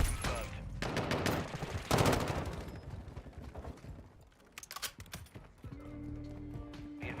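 Rapid bursts of video game gunfire rattle in quick clusters, loud and close, with sharp repeated shots separated by short lulls and some game effects in the background.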